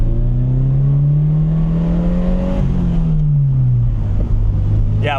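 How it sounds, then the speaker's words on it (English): A Toyota GR86 fitted with a Borla exhaust revs hard, a loud, close engine drone rising and holding pitch before falling away, with buffeting wind noise throughout. "this exhaust is fucking outrageous, dude. I need to get me one of these fucking Borla exhausts"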